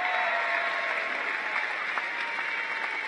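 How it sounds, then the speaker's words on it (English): Sustained applause from a large live-event crowd at the Iowa Event Center, a continuous even rush of clapping heard at a moderate distance with no voices breaking through. "Let's give a big round of applause to the Iowa Event Center staff and workers that have been helping us all day."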